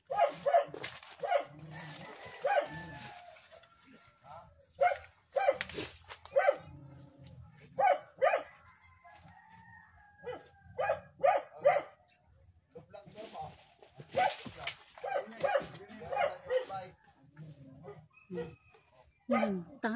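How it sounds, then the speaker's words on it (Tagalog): Dogs bark in short, irregular bursts at moderate distance, mixed with chicken clucks and people talking over the noise. "Yung aso."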